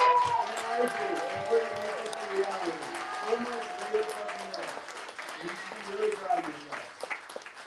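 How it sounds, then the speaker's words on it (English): An audience at a bookstore event on fair wages applauds petition collectors, a dense wash of clapping that runs throughout while voices call and talk over it. "I'd love for you to stand up so we can give you a round of applause"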